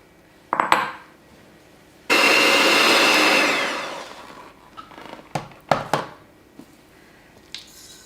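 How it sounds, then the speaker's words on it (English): An electric mixer beating cheesecake filling with eggs on low speed, a steady whirring run of a couple of seconds between clinks and knocks of bowl and utensils. "now we're going to add our eggs, and then we're going to beat that on low speed for about 15 seconds"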